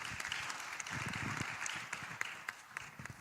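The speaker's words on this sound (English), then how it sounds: "Let's have a round of applause for him" Applause at a climate and development partners' meeting, a steady wash of many hands clapping across the room at moderate distance, tapering slightly toward the end with a few distinct claps standing out.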